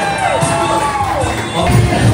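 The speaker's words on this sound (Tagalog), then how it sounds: "Palakpak na may sigawan" Crowd at a provincial wedding in the Philippines cheering and shouting, with clapping blended into a steady dense roar that swells louder near the end.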